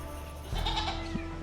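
A goat on a house property on Nainativu island bleats once, a nasal cry rising over a steady hum of background noise, fairly close by.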